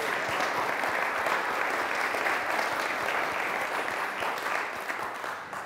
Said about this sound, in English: How about a round of applause for this?